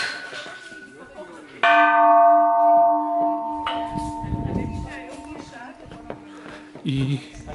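A large bell on a hilltop in Thailand rings out loudly when struck, with a long, sustained metallic hum, fading slowly, with footsteps and faint voices around it.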